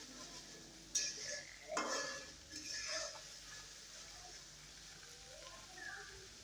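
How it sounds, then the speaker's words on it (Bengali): Spice paste with turmeric, salt and coriander powder stir-fried in a pan, giving a faint, quiet sizzle with a few louder scraping strokes early on, then a soft steady fry. "হলুদের গুঁড়া লবণ পরিমাণ মতো আর ধনিয়া গুঁড়া দিয়ে আবারও মশলাটাকে কষিয়ে নিচ্ছি ভালোভাবে"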